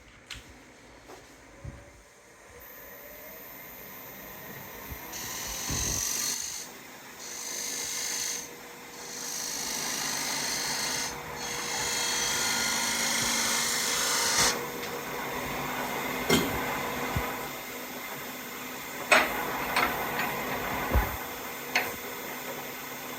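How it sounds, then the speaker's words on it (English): A wood lathe turns a black locust bowl as a gouge cuts away the sapwood, giving rasping, scraping cutting passes that swell and fade over a low spinning hum, with a few sharp knocks and pauses between passes. "we'll turn away the rest of this leftover sapwood here, and we'll be down to all heartwood"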